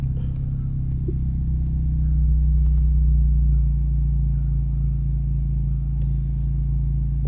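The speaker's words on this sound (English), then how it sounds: "Let the car warm up." A 2025 Honda Civic Type R FL5 engine warms up at idle with a steady, low, continuous rumble throughout and no talking.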